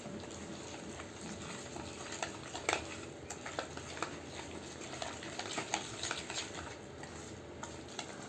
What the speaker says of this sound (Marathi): हे मिश्रण मिक्स करून घ्या